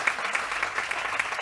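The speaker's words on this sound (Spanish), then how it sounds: "podéis aplaudir primero" A conference audience applauding steadily, dense clapping that holds an even level from start to finish with no voices above it.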